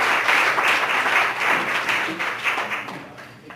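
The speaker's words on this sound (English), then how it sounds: "Let's give him one more big round of applause." An audience applauds an award recipient, a medical marijuana and peace activist, at a ceremony, with dense, loud clapping that holds steady and then slowly fades toward the end.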